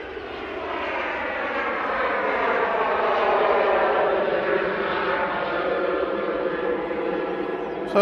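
A Ryanair jet on its takeoff roll at Manchester Airport produces a sustained, rising engine roar with layered whining tones, swelling steadily and holding loud at a moderate distance, with no talk over it.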